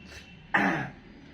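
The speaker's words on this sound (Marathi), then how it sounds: "आज खोकला आलाय" A man with a cold gives a single short, raspy cough, close and alone against a quiet indoor background.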